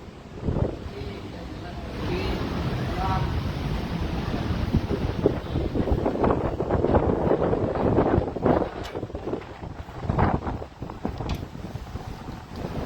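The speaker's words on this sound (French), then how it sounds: "Waouh, il y a un vent qui passe là." Strong outdoor wind buffets the microphone in a sustained rushing roar that swells and gusts, with faint background sounds beneath it.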